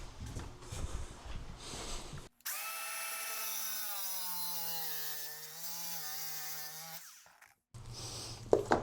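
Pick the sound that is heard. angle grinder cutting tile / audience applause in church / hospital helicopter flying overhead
angle grinder cutting tile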